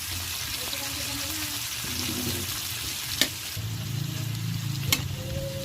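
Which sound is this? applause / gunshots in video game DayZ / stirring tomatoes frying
stirring tomatoes frying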